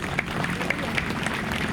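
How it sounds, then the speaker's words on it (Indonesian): A church congregation claps together during a sermon, producing a steady wash of applause that fills the whole short moment at a fairly even level, with no speech on top. "Tepuk tangan untuk itu."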